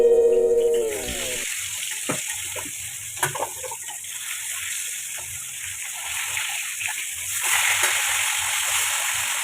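Fish frying in hot oil for fish kalia, a steady close sizzle with hiss and faint crackling running throughout, preceded by a short tone at the start.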